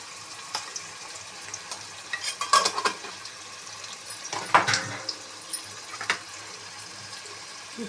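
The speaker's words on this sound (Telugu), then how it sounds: "ఇప్పుడు కారం వేస్తున్నాను చూడండి." A spoon stirs chili powder into a simmering fish curry (chepala pulusu) in a pan, giving soft scraping strokes and wet bubbling sizzle, with a few sharper clinks, up close and with no talk.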